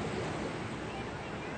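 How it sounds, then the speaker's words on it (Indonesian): Strong ocean waves at sea make a steady, dense wash of surf, mixed with wind buffeting the microphone, continuous and fairly quiet for under two seconds. "ketika melihat ombak yang kencang seperti ini"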